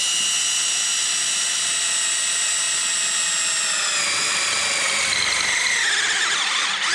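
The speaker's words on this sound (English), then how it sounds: "do a second hole right next to it" A step drill bit on a power drill cuts a hole for about seven seconds, a loud steady high whine whose pitch slides and wavers toward the end as the bit loads up, with no talking.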